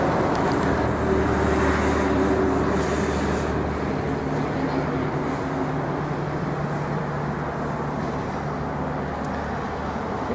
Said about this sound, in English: Here's a view of the trucks that are passing by.